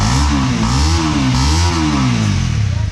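Loud, nearby Honda CL 250 motorcycle engine blipped twice, the exhaust note swelling and dropping back to a gruff, rumbling idle.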